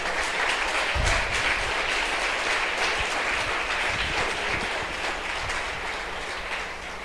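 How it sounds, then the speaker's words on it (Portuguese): Church congregation applauding during a sermon, a sustained wash of clapping that holds steady and eases slightly toward the end, with no talking over it. "Você pode aplaudir o Senhor?"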